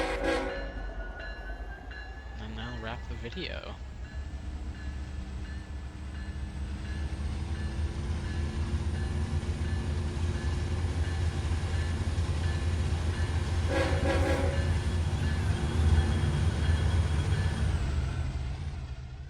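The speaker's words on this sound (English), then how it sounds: "we'll just do like a little follow along with this train all the way till Southline Yard" A train in the Roblox game Southline District rumbles past steadily, its horn sounding near the start and again midway, with clanking wheels and a continuous heavy roar. A voice speaks briefly.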